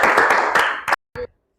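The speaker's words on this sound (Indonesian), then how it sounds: "Tepuk tangan buat Adriana." Students in a teacher-training mathematics class clap briefly: a burst of group applause for under a second, then it breaks off into a couple of isolated, scattered claps and near silence.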